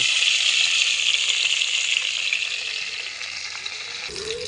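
Cumin seeds and bay leaves hit hot mustard oil in a pan for a fish-head and cabbage curry, giving a loud, steady, close sizzle that eases slightly before a brief clink near the end.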